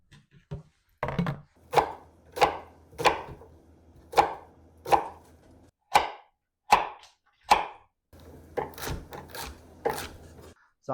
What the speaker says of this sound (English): I want to cut up my aromatics now. That's onion, carrot, celery, a little bit of garlic.